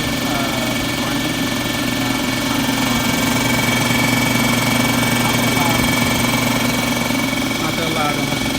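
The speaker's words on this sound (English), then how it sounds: "and here it is running." A DeWalt 15-gallon D55168 air compressor runs with a steady, loud motor drone and rhythmic mechanical chugging that holds constant throughout, with no pauses.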